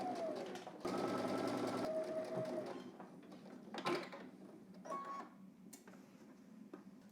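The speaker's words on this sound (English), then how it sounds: "So head to the machine. We're just going to stitch this down using 3/8 seam allowance." A sewing machine stitches a 3/8-inch seam on fabric for a pair of baggy pants. A steady, fast run of stitching rattles for about a second, then gives way to quieter handling sounds and brief clicks.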